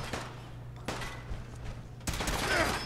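A few sharp gunshots ring out in Fallout 4, spaced about a second apart over a low, steady game ambience, with the last one loudest.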